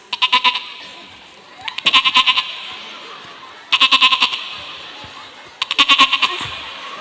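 A man at a religious lecture imitates a young goat bleating, giving four loud bursts of rapid, quavering bleats separated by short pauses.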